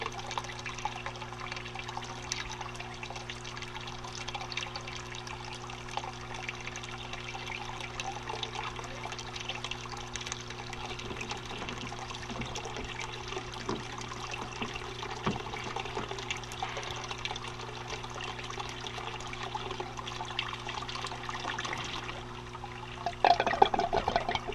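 Water trickles and pours steadily into an aquaponic grow bed, a continuous low wash over a steady pump hum, with a brief louder splash near the end.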